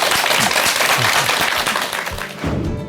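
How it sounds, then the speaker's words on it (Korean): Audience applause at a Korean lecture hall as a natural-medicine speaker is welcomed, dense steady clapping filling the room for about three seconds, loud and close, with a brief voice near the start. "박수 부탁드립니다"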